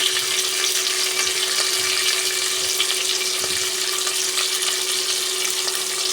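Onion, curry leaves and green chilli sauté in a pan with a steady, even hiss that runs unbroken throughout, fairly close, with no voices.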